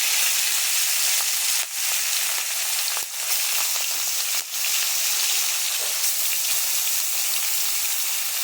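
Pangas fish pieces sizzle and fry steadily in hot oil, a continuous close crackle with a few brief dips as more fish are laid into the pan.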